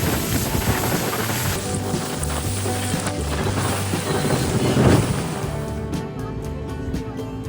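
A boat cruises across the Indian River Lagoon on Florida's Space Coast, a steady engine drone mixed with rushing water and heavy wind buffeting the microphone, loud and continuous throughout.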